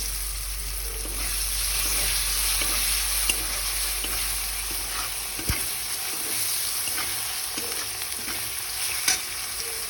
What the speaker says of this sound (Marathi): यामध्ये थोडेसे हे टमाटे फ्राय करून घेऊया आपण